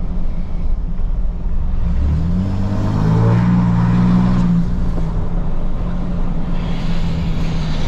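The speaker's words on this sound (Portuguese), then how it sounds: "Freio de escape pleno ligado." A RAM 2500 pickup with its exhaust brake fully on gives a loud, close, continuous engine drone. A deep throbbing tone swells and bends in pitch midway before settling back into a steady roar.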